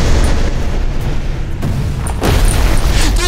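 Explosions tearing through a town in the video game Arcane Odyssey, a dense, continuous barrage of booming blasts that stays loud throughout, with a sharper burst surging in near the end.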